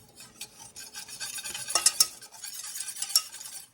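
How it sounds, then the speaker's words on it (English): A whisk scrapes and clinks around a bowl, mixing a banana cream pie filling to knock out lumps, with quick irregular strokes and a few sharper metallic taps, close and alone. "Just whisk it around in there."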